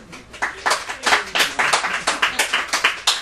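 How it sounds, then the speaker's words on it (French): Audience applauds Narcisse Praz with a short burst of scattered hand claps, moderately close and fairly sparse, building into a ragged rhythmic patter over a few seconds. "Quoi, il n'y a que ça pour m'applaudir?"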